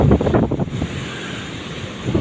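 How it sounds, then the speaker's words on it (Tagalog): Big storm-driven ocean waves surge and wash in a steady, broad rush in bad weather at Guimbal, mixed with wind buffeting the microphone close by. "Grabe, lalaki ng alon dito guys."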